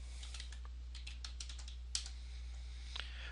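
Light typing on a computer keyboard, soft scattered keystroke clicks in quick irregular bursts with a few louder taps, heard alone over a low steady hum.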